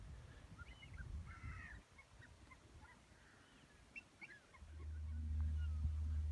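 Seabirds call from sandbanks along a seaside promenade near a lighthouse, scattered chirps and cries at a distance over steady low wind and traffic rumble, faint and intermittent.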